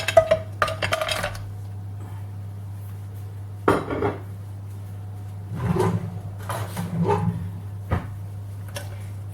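Spoon scraping and clinking against a pan while chocolate and butter are stirred until melted for chocolate-banana tartlets, coming in irregular bursts of metallic taps and scrapes over a low steady hum.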